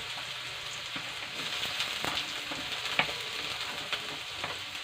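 Ingredients sautéing in a hot pan give a steady close sizzle, broken by sharp scraping clicks from stirring every second or so, with no voices.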